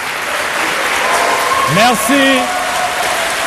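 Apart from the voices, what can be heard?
audience applause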